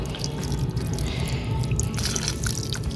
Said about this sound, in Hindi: तो इस तरह से पानी आपको डाल देना है, बस इतना पानी काफ़ी है